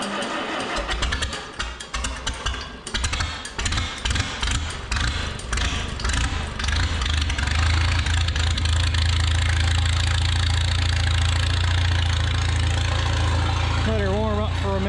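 A farm machine's engine starts with uneven chugging and knocking, then settles into a loud, steady, close idle as it warms up.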